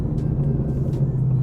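A 2018-2023 Mustang GT fitted with a Borla 3-inch S-Type cat-back exhaust rumbles steadily at close range, a deep continuous burble holding even throughout with no talking.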